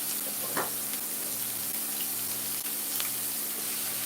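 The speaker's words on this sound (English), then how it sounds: "Gonna get our onions sweated down a bit." Onion sizzles in a no-stick stainless steel pan, a steady soft frying hiss with a few brief clicks, close and even, no voices over it.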